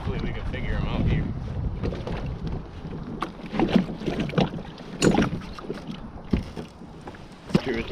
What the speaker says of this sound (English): But the wind is also picked up.